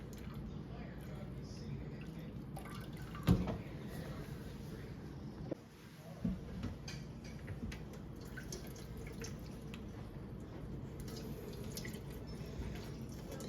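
Whey draining from cream cheese curd in a farm kitchen, a soft continuous trickle with occasional drips and a brief splash, faint and steady throughout.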